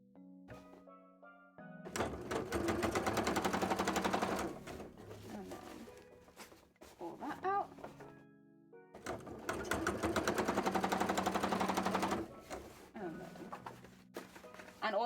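A sewing machine drives through heavy cosplay fabric in two long, loud bursts of rapid stitching, separated by pauses filled with thumps and fabric handling, all heard close up.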